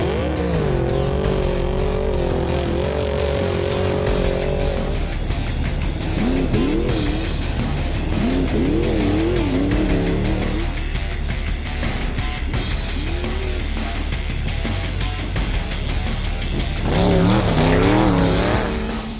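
Off-road race trucks tear through the Mint 400 desert race, engines roaring loud and continuous with rising and falling revs as vehicles pass close, gears shifting throughout, no talking.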